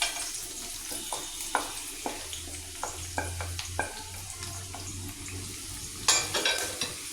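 Sliced onions frying in a pan of oil or ghee, a soft steady sizzle with repeated clinks and scrapes of a stirring spoon against the pot, louder toward the end.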